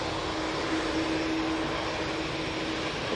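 A Ryanair Boeing 737 MAX bound for Almeria rolls down the runway at Manchester Airport, giving a constant wash of jet roar with a faint steady whine, unbroken for the few seconds heard.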